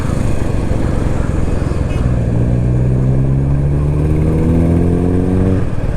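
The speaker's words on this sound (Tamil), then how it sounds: "என்ன சவுண்டுங்க, எக்ஸாஸ்ட் சவுண்டு." A Royal Enfield Classic 350 motorcycle on a Sunday ride, its exhaust a loud, steady engine drone under wind rush, with a rising, shifting tone as the rider accelerates partway through.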